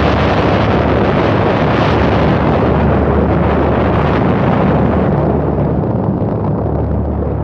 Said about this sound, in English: The bomber's crew dropped the first in history of mankind atomic bomb over this